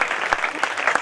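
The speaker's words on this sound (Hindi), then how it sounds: "तालियां बजाया करें इस बात के लिए।" A brief burst of steady crowd applause at a church revival meeting, dense clapping from many hands.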